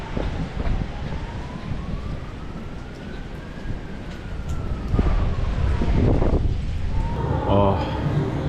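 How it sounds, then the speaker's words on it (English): A distant fire engine siren rises and falls in a slow wailing sweep, drifting faintly over steady wind and rain noise at a rainy campsite, with some brief rustling and a voice near the end. "Can hear the fire engine."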